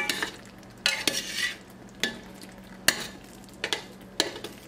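Food being stirred in a pot, with a spoon scraping and clinking in irregular bursts at close range over a soft background hiss.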